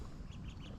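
A duck quacks at a lakeside during a trout-fishing outing with kids, a short close burst of quacks over steady low outdoor rumble with no talking.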